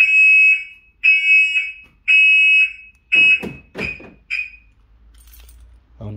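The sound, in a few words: VW Polo 9N3 car alarm two beeps on unlocking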